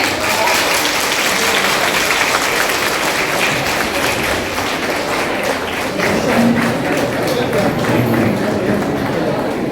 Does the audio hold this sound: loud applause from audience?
yes